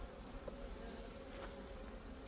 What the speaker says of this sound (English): as the bees escape out